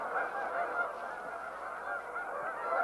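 A dense flock of geese honks continuously at Horicon Marsh, beside cornfields, many overlapping calls forming a loud, steady clamor with no gaps.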